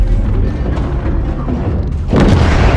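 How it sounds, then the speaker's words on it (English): A heavy missile explosion strikes a SAM site in Call of Duty Modern Warfare 3, a deep rumbling boom that rolls on and then hits again with a sharper, louder blast near the end. "Gunner, drop a missile on that SAM site."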